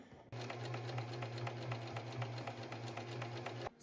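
A sewing machine running a quarter-inch seam on a fabric tissue holder, a single quiet burst of rapid, even stitching that starts abruptly and stops after about three seconds.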